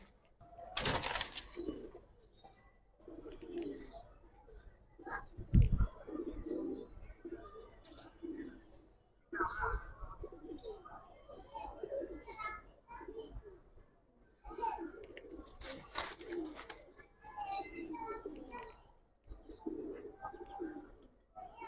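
Giribaz pigeons coo in soft, recurring low phrases under frequent nearby conversation and occasional clatter.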